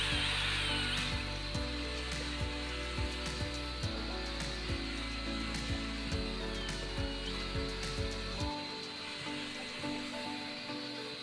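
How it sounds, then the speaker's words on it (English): Plaster mix is whisked up close for several minutes, giving a steady, continuous whirring with faint rhythmic pulses and no talking. "Then start mixing the plaster. So I want to whisk for 4 minutes."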